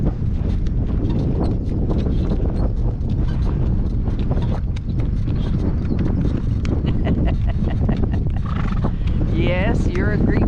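A horse walks through a blustery windstorm, its hooves clip-clopping under heavy wind buffeting the microphone while a person talks throughout.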